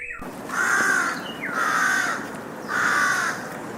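Three loud, drawn-out crow caws ring out at an even pace, close and clear over a steady hiss of background noise.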